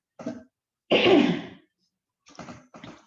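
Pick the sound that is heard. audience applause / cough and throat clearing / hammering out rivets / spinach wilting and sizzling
cough and throat clearing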